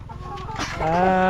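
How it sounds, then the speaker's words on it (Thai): Chickens cluck close by in a backyard coop during egg collection, a busy flock calling and fussing over a steady low background. "ไก่ของเฮา"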